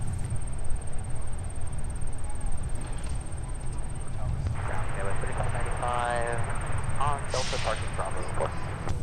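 Boeing 737 jet at Minneapolis airport, a steady distant engine rumble and whine heard under talk and radio chatter.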